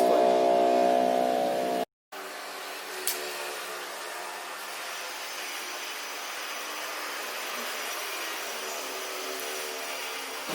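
Hands are washed under a running tap in a clinical skills lab before an insulin injection, a steady, fairly loud broadband rush of water that runs continuously after a brief break near the start.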